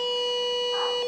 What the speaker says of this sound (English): Every time you turn the level clockwise, it'll start beeping at you.